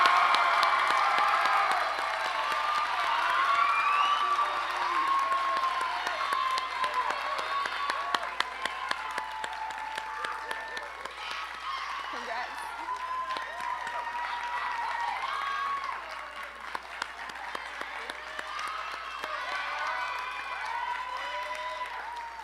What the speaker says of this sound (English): Please give a big round of applause for Jaron Wallace.